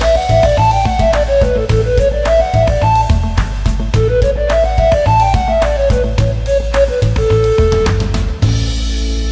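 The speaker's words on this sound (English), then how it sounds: "I can play the recorder." A bright recorder-like melody rises and falls in stepped phrases over a steady bouncy backing track, with a sustained tone near the end, loud and continuous with no talking.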